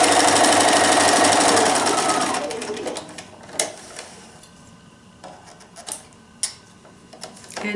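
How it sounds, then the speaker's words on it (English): Sewing machine stitching quilt binding, a dense steady run of rapid needle clatter for the first few seconds that then stops, leaving scattered light clicks and handling taps close by. "You'll sew to the next corner and stop."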